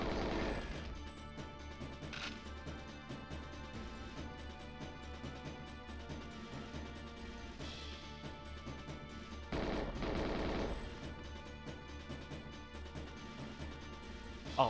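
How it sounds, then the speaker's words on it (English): Gunfire in the GoldenEye 007 Streets level, with steady game shots and bursts over a continuous backdrop of game music and effects, including a louder crash near the end. "Okay, who's shooting now? Someone is shooting."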